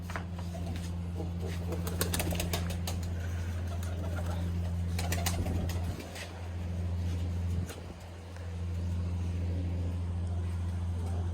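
Pigeons coo softly in repeated low murmurs over a steady hum of distant traffic, with a few brief fluttery sounds and no talking.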